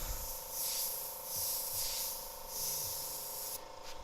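An airbrush hisses in steady pulsing bursts as it sprays paint onto a t-shirt during live graffiti painting, a close continuous spray that swells and eases several times over a faint steady hum.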